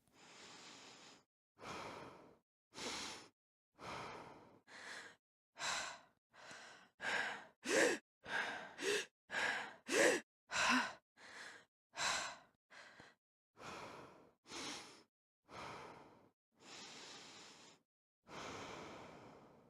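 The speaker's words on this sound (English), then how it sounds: "so that the breathing sounds natural when switching between the types" Player character's breathing in a video game, a steady series of about twenty distinct, close, breathy inhales and exhales, growing louder and quicker in the middle before easing off, with no other sound around them.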